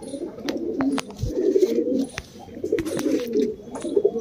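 Soft, repeated cooing of a Kalsira pigeon close by, low throaty notes rising and falling over a few seconds, with a few sharp clicks and rustles.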